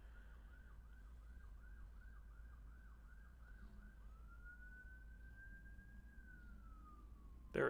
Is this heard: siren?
yes